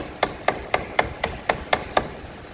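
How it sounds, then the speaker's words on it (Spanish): Eight sharp, evenly spaced hammer taps on a car battery terminal ring out in a steady rhythm, close and clear with no talking. "podemos darle unos martillitos para que"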